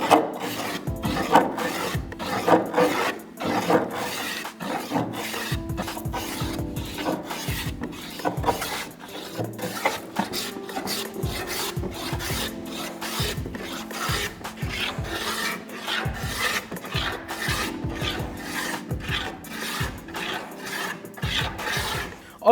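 A Veritas No. 5.5 jack plane flattening a live-edge walnut slab, producing a steady run of close, rhythmic rasping strokes as shavings are taken off one pass after another, with no speech.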